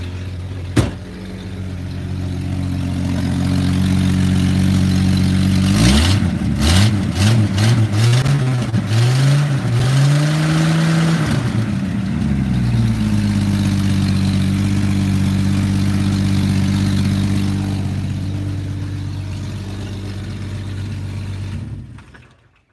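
A car engine idles steadily, revs up into a rising, wavering roar midway, then settles back to a low idle before cutting off.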